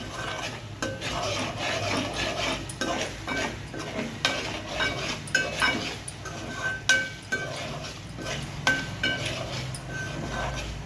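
Chicken pieces roasting in a pan with paste for a chicken pickle, stirred repeatedly with a metal spoon: irregular scraping and clinking strokes over a soft continuous sizzle, close and moderately loud, with no talking.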